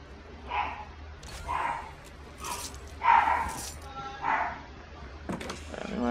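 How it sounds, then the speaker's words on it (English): A dog barks faintly in short, repeated yips at a distance, five or six quick barks spaced across the moment, with quiet background noise. "I think my dog's here."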